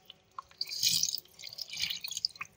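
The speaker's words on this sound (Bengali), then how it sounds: "মাছগুলোকে আমি ভালো করে ধুয়ে নিচ্ছি" Water runs and drips softly while small pieces of bain fish are washed for a home-style Bangla curry, a faint, uneven splashing with brief drips, no talk.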